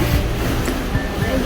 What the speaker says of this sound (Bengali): এই দেখো, এরা সেলাই করছে।